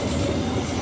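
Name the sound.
train passing a railway crossing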